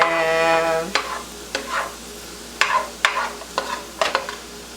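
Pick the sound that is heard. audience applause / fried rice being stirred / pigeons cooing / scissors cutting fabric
fried rice being stirred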